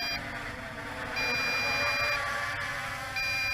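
A steady electronic warning beep sounds from an MJX Bugs 3 Pro GPS quadcopter signalling low voltage. Two sustained tones ring over a constant hum, switching on and off in long stretches.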